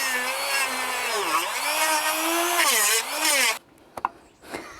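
A Dremel rotary tool fitted with a metal-cutting disc whines loudly as it cuts a small plastic car part, its pitch dipping under load, then it cuts off and a few light knocks follow.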